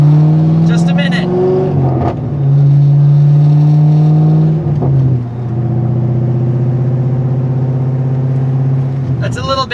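A C5 Corvette fitted with Speed Engineering headers revs hard and runs up through the gears, loud and close, with brief dips between shifts and a rising roar each time.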